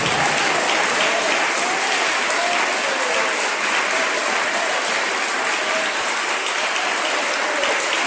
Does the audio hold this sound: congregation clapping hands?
yes